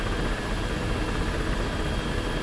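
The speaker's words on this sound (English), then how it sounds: "I think this is the most powerful helicopter we'll be flying today." Attack helicopter flying in the combat simulator DCS, a steady dense rotor and engine roar that holds constant and loud throughout, with no speech over it.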